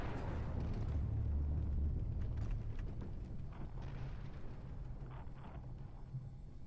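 A planet being destroyed in Titanfall 2, heard as a continuous low rumbling roar with scattered crackling bursts, loud at first and slowly thinning out, without any voices.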